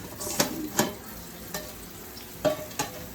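Bonito and anchovy fillets frying in a pan give a steady low sizzle, broken by a handful of sharp knocks and scrapes as the fish is turned, with no voices.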